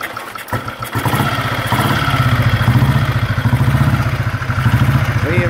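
A 1940 Triumph 2H 250cc single-cylinder motorcycle kicks over with a brief clatter and catches, then settles into a loud, close, rapid steady thumping run with a slight rise near the end.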